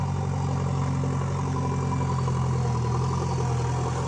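A 49 hp JCB loader engine runs at a steady idle, a continuous close diesel drone with a low throbbing hum and no changes in pitch.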